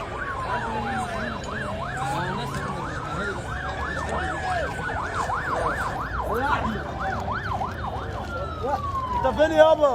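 Several ambulance sirens wailing and yelping together at the scene of a train crash in Toukh, Egypt, loud and continuous with overlapping sweeping tones and traffic noise underneath.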